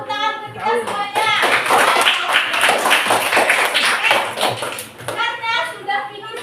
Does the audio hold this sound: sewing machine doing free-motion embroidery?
no